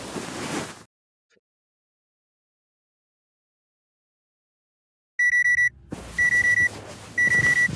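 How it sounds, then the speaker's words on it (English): In a video game, an alarm clock rings in short, bright electronic beeping bursts, repeating in loud pulses after a stretch of silence, with some background noise between the rings. "If I want to set the alarm, I need to press the alarm button."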